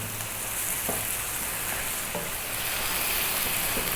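Meat sizzling and frying in a pan for Ethiopian siga alicha fitfit while being stirred, a steady loud hiss with faint scraping of the spoon throughout.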